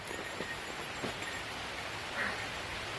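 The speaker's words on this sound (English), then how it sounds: "chucking it down with rain." Heavy rain pouring down on a forest stretch of the Appalachian Trail in Connecticut, a dense steady hiss of drops with faint patters and rustles, continuous and fairly soft without any talk.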